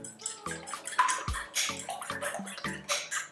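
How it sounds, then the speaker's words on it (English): Eggs are lightly beaten in a bowl with a series of quick, soft, wet clinks and splashy taps at an uneven rhythm, faint and close, with no voices. "Just slightly beat them."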